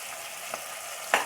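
Vegetables and sliced green chillies fry in a pan for egg pasta, giving a steady close sizzle with two brief stirring scrapes, the second louder.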